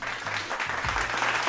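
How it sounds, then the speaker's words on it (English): A brief burst of crowd applause used as a sound effect, with dense, steady clapping throughout and a low tone humming underneath. "Give her a round of applause for that"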